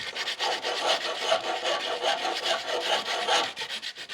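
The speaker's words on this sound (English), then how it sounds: "we can do a little bit of more fine tuning with this lighter sandpaper, just to make sure we don't get any metal in our hands" Fine sandpaper rubs steadily against the metal of a golf club shaft being made into a snake hook. The rasping strokes are continuous, close and moderately loud, with no voices.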